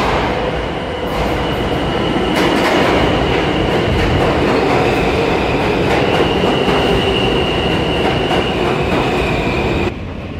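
A Manhattan-bound F local train on the New York subway pulls into a station, a loud, continuous rumble with rattling wheels and faint squeal that holds steady before cutting off near the end.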